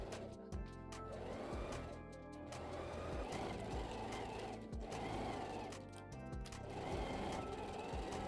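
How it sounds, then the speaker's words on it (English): A sewing machine stitches the centre seam of toddler summer shorts in steady whirring bursts, running continuously with short pauses and speed changes, loud and close with no talk. "we're going to sew across that center seam"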